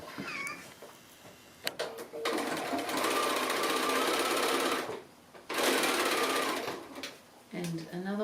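Sewing machine stitching a quilt seam: close mechanical whirring comes in bursts, with a long run, a brief pause, another run and a few short starts, while a voice speaks quietly around the stitching.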